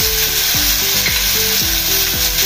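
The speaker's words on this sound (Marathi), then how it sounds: "ही भाजी मी चांगली तेलात बारीक गॅसवर शिजवून घेणार आहे" Pumpkin cooks in oil with turmeric over low heat, a loud, dense, steady sizzle filling the whole clip, with a repeating tonal pattern laid over it and no voices.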